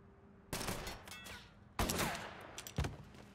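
Gunfire erupts in the Mafia III video game, three sharp bursts of shots with ringing tails, roughly a second apart and fairly loud against a quiet background.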